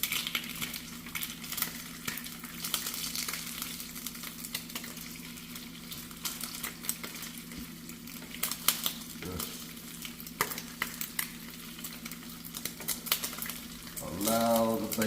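Turkey bacon frying in a pan, crackling and spitting steadily up close with bursts of popping grease, a low hum underneath and a brief clatter near the end.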